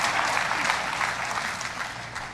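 A church audience applauds during a sermon, a dense, steady wash of many hands clapping that fills the room, loud and sustained, with no voice on top.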